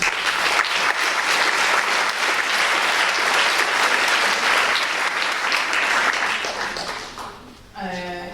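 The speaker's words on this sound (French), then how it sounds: "Donc je vais vous demander aussi des applaudissements." Sustained applause fills the room at the opening of a conference event, a loud dense clatter of many hands that tapers off near the end as a voice comes in.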